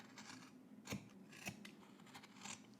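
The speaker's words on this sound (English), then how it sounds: "Okay, now you wanna just trim your corners here." Scissors trim the fabric corners of a sewn Simplicity 3168 jacket, with a few crisp snips close up and quiet, each sharp cut standing alone against faint rustling of cloth.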